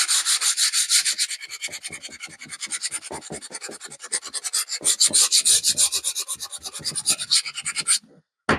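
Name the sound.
sandpaper rubbing a wooden model railing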